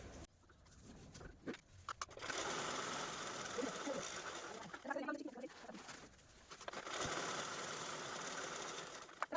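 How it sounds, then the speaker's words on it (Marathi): A sewing machine runs a quarter-inch seam along rectangular blouse-piece fabric for a bag, whirring quietly in a few steady bursts with short pauses between them. "यावरतीच आपल्याला अशी अगदी पाव इंचाची स्टिच करून घ्यायची आहे तर चला मी लगेचच स्टिच पण करून घेते"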